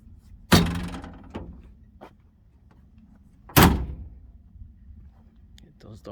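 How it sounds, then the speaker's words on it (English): Doors on a Can-Am X3 side-by-side shut one after the other, two sharp, loud thunks roughly three seconds apart with quiet outdoor ambience between them. "Get those doors closed."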